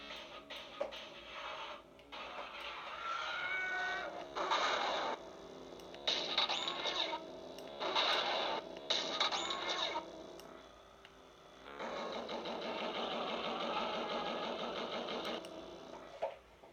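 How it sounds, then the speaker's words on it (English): A pod race sound font plays from an Ultimate Works Master Q lightsaber inspired by Qui-Gon Jinn, giving bursts of buzzing, rattling engine-like whine that rise and cut out repeatedly, then a longer sustained stretch. "It's a pod race. Pod race for a saber font."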